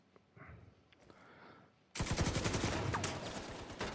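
Enemy gunfire in The Division 2 erupts suddenly after a quiet stretch, a loud, dense run of rapid automatic shots that keeps going to the end.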